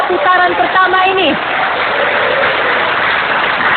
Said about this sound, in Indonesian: kita tepuk tangan untuk ronde pertama, putaran pertama ini